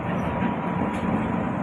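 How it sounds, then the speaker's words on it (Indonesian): Train arriving at a station: a steady, heavy rumbling roar of railcars, close and continuous throughout, with no talking. "ini kereta apinya udah mau datang ya teman-teman, kereta apinya udah mau datang"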